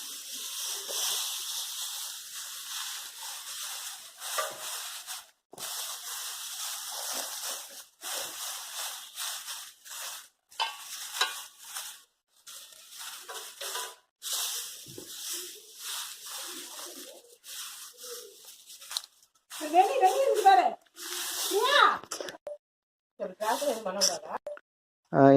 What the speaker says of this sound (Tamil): அடுத்தது வைக்கப்புல் கூலத்தை நம்ம அப்படியே பரப்பி விடுறோம்.